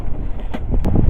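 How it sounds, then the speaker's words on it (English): Wind of about 20 knots buffets the microphone aboard a sailboat at sea on an ocean crossing, a low loud rumbling gust with brief rustling bursts. "by now the wind has been blowing a bit stronger, around about 20 knots"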